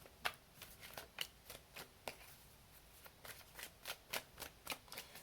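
A deck of tarot cards being shuffled during a reading, a run of soft, crisp riffling snaps in an uneven rhythm, close but faint, with no talk.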